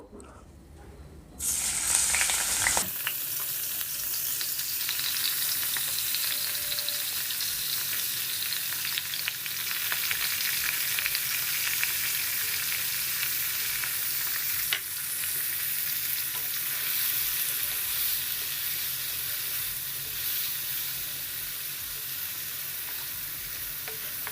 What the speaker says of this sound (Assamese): সেই গতিকে মই এই পনীৰটো অকণমান ভাজি ল'ম